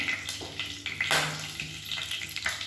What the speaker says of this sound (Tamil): இப்போ எல்லாமே பொரியுது.